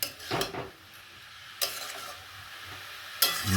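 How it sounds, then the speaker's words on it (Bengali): Beto shak greens seasoned with salt and chili being stirred in a pan, with a few scraping strokes at the start and middle and end over a low steady sizzle, close and moderately quiet. "দেখো এবার শাকটা কষবে"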